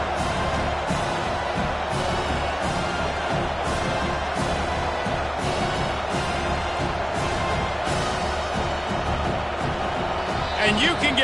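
A loud, roaring stadium crowd at a Miami vs UNC college football game, a dense continuous wall of noise with rhythmic surges that pushes an offense into a false start, with commentary voices underneath.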